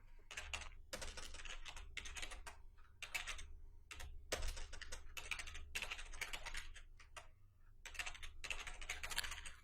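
Rapid keyboard typing on a computer keyboard as an admin username and password are entered, bursts of crisp clicks with short pauses between, close and steady, no talking.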